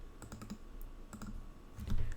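Fingers type a command on a computer keyboard in a short burst of close, light key clicks in small clusters, with a brief pause and then a final few keystrokes.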